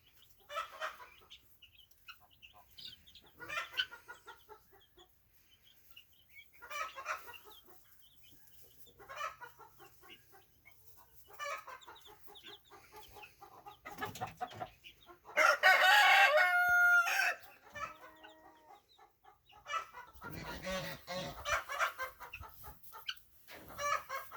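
Easter egger hens and week-old baby chicks cluck and cheep intermittently across the scene, with a loud burst of close clucking and calling in the middle, amid other soft farmyard sounds.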